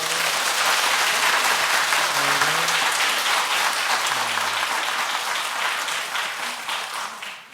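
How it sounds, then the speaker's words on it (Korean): Large congregation at a Christmas Eve night Mass in a Korean Catholic church breaking into sustained applause, a dense wash of many hands clapping that fades out near the end. "박수라도 한번 칠까요?"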